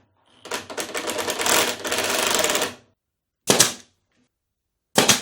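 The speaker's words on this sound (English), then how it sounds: "So I'm just going to drive one screw through the middle into this piece of plywood." A drill drives a screw through a wooden drawer front into plywood, giving a close, loud whirring burst of about two seconds, followed by two brief separate bursts as the screw is seated.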